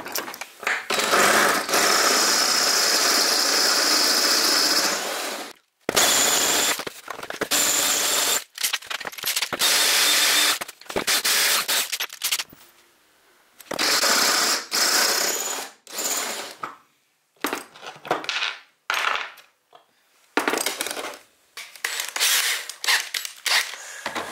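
A power tool cuts off threaded studs inside a Fiat Ducato van. Loud, harsh grinding comes in repeated bursts of varying length, broken by short silences and clattering as the tool stops and starts.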